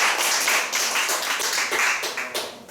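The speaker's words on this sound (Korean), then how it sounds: "박수 한번." A church congregation claps together for a few seconds after a sermon, a dense, steady patter of hands at moderate distance with no talking.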